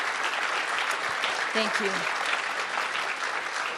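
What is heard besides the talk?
audience applause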